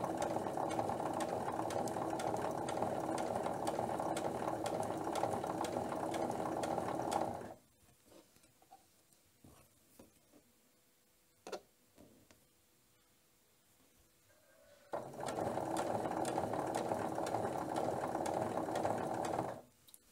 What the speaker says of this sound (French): je continue à coudre